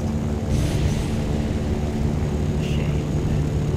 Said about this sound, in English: Hey, is that a biplane?